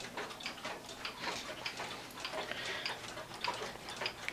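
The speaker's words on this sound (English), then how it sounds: "And here's yet another cuckoo clock." A restored cuckoo clock decorated with grapes, a wolf and an owl ticks steadily in a quiet room, its close, even tick-tock carrying on alone with no talk over it.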